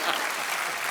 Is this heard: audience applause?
yes